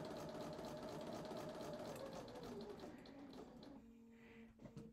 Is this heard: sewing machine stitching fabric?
yes